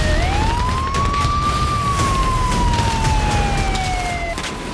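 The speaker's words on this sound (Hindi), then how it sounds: "सायरन गूंज रहे हैं।" A siren wails steadily during wartime attacks on Odesa, its pitch sweeping up then slowly falling, loud and continuous over a rumbling city background with no talking.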